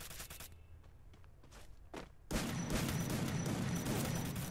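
Gunfire crackles in a shooter video game, first sparse scattered shots and thuds, then a dense, continuous burst of rapid firing that stays loud to the end.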